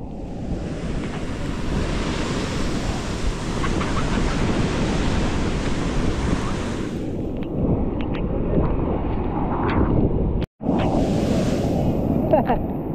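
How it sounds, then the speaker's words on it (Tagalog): Steady roar of surf breaking on a shore at Nasugbu, Batangas, with wind buffeting the microphone and faint voices in the background. "Ayan ang alon."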